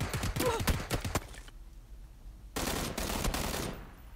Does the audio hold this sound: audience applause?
no